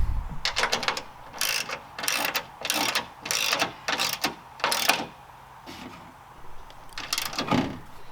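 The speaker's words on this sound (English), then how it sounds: "tighten that down until the bushings start to widen enough to meet the washer" Nut being tightened onto a rubber bushing and washer during a shock install on a 3rd gen Toyota Tacoma, heard as a close ratchet clicking in short repeated bursts with brief pauses, moderately loud, no speech.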